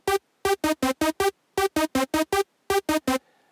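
An Ableton synth arpeggiates a minor chord in 16th notes with a 45% gate, giving short, clipped, evenly spaced notes in bursts separated by brief pauses, clear and alone.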